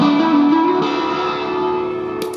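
Roland Space Echo RE-201 tape echo unit sounding a sustained, loud tone with a gliding pitch that steps upward, thick with repeating echoes and reverb throughout, with no voices.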